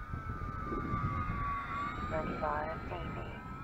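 A Tundra plane engine drones steadily in a flight simulator game, a constant mid-level hum while flying into the wind, with a faint tonal whine and brief chirping sounds near the end.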